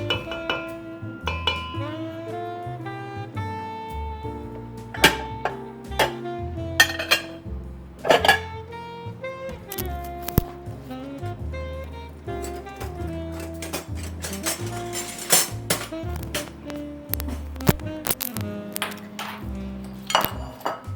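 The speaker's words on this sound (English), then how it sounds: "And I'm mixing all my dry ingredients together" Flour and other dry ingredients are mixed in a bowl, with bright clinks and taps of utensil against bowl recurring irregularly over steady background music.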